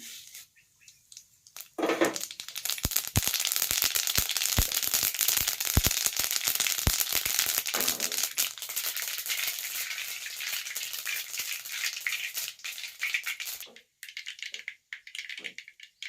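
Crackling sizzle of ingredients dropped into hot oil while frying a crispy snack at home, a loud dense crackle with sharp pops that starts abruptly, holds steady, then briefly cuts out near the end.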